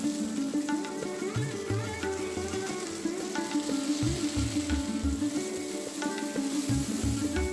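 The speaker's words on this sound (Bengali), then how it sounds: "পেঁয়াজগুলো অল্প নাড়িয়ে চাড়িয়ে দিয়ে দেব স্লাইস করে রাখা আদা, গোটা রসুন, কাঁচা লঙ্কা এবং কেটে রাখা টমেটো।" Onions with ginger, garlic, green chili and tomato fry in a pan, giving a steady, close sizzle under a low, humming background, with occasional stirring scrapes and no talk.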